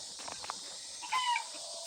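A mother hen at a backyard chicken coop gives a short burst of clucking calls partway through, fairly faint and distant against steady outdoor background hiss.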